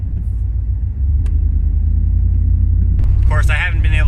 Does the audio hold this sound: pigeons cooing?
no